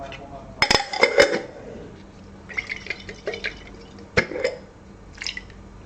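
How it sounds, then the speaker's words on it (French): A glass tomato paste jar is rinsed, with running and dripping water, clinks of glass against a sink and a few splashing bursts, close up and intermittent. "Je vais bien rincer mon pot."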